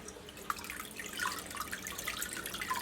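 Water trickles and drips out of wet recycled paper pulp held on a template, a soft, steady patter of small drops, close and quiet, with no speech.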